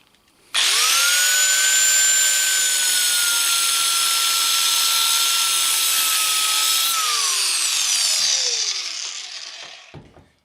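Power tool cutting off steel bar stock while forging a hammer hook: a loud, close, continuous high whine for about eight seconds that winds down in pitch as the cut finishes.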